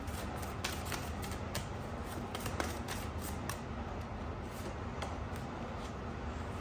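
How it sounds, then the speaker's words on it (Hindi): Tarot clarification cards are drawn from a deck, heard as faint, soft papery flicks and clicks scattered over a quiet background, with no talking. "मैं पहले दोनों क्लैरिफिकेशन कार्ड्स निकालती हूँ"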